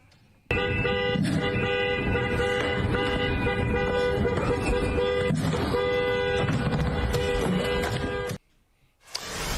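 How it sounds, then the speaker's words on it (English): A car horn honks in a near-continuous blare for about eight seconds, loud and close amid traffic noise, then cuts off abruptly, followed by a brief burst of street sound. "You can hear what happens to her honking the horn."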